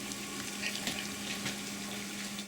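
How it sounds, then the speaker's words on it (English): Steady bubbling and churning of water at a rolling boil, a continuous low hiss with faint pops, fairly quiet and close. "as you can see, our water is now boiling"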